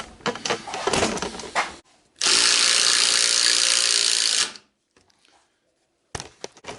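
An impact driver drives a screw deep into wood until it strips, with a dense, steady whirring burst lasting about two seconds, close up, preceded by rattling handling noise and followed by a brief pause before more clattering.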